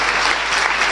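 Church congregation applauding loudly for the Lord after a sermon, a dense, continuous burst of clapping throughout, close and full with no talk over it.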